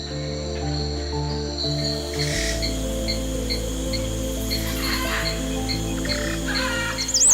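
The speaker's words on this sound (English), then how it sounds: "Birds return to their nest, their calls echoing through the branches." Birds calling in the Amazon forest, repeated chirps and whistles over a dense steady insect drone, with layered tonal calls throughout and a sharper call near the end.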